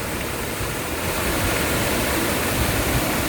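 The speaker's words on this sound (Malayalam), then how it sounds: "മഴക്കാലത്ത് നന്നായിട്ട് വെള്ളമുള്ള ഒരു വെള്ളച്ചാട്ടമാണിത്" Steady, dense rush of falling water, loud and continuous with no breaks, from a close waterfall running through a two-acre plot in Kerala.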